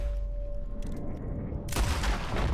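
Gunshots in a Red Dead Redemption 2 gameplay scene: a low, steady rumble gives way to a sudden loud burst of shots near the end.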